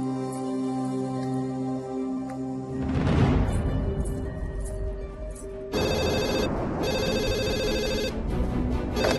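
A telephone rings loudly and close, a steady electronic ringtone that repeats across the whole stretch with no voices.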